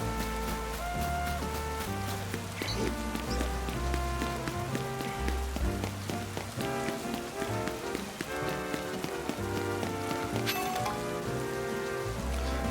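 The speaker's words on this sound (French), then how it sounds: "Il pleut toujours, c'est génial." Steady rain falling in the video game Pokémon Legends Z-A, a constant hiss of drops blended under the game's melodic background music, with no talking.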